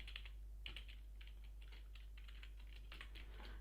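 Code is typed on a computer keyboard in quick irregular bursts of soft key clicks, faint over a low steady hum.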